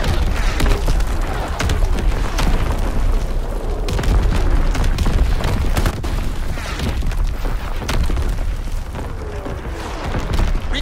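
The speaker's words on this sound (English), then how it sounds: "Incoming enemy artillery. Get to cover." Continuous, dense World War II video game battle din with repeated booming artillery explosions and scattered gunfire, loud and sustained throughout without a break.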